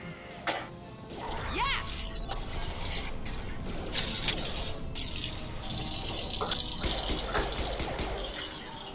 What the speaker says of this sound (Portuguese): Tá dando pra ouvir água corrente do meu microfone, não?